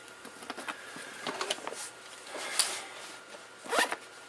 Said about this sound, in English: This is a 3/4 zip.